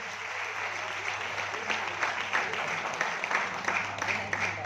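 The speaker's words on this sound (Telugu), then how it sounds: "వీళ్ళ గురించి ఒకసారి గ్రేట్ అప్లాజ్." Audience at a business investment gathering clapping together, a steady crowd applause with individual claps popping through, continuing evenly with a faint hum underneath.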